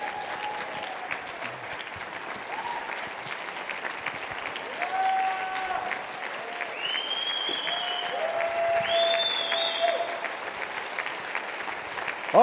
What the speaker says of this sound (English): So give a big round of applause for the company.